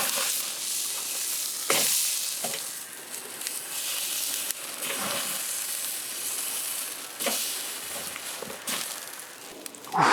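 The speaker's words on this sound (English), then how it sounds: "I'm cooking this rack of lamb, late 40s, early 50s." Rack of lamb sizzling and spitting as it cooks over heat, a continuous bright crackling hiss with occasional louder pops and scraping movements, close and alone without talk.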